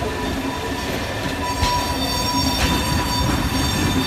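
A train runs through Brno city centre with a steady, close rumble of wheels on rails. A faint high squeal runs underneath, and a few soft clanks come through during the four seconds.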